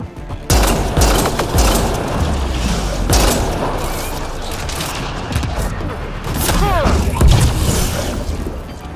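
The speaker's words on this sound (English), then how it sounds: "He detonated the EMP." An EMP detonates in a sci-fi shooter video game, a loud booming blast amid dense gunfire and crashing game combat that continues for several seconds.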